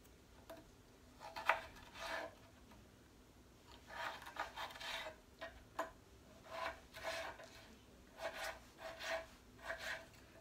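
A knife slices through peeled potatoes for potato salad, making a series of soft, rasping cuts in short irregular bursts that are close and quiet, with no talking.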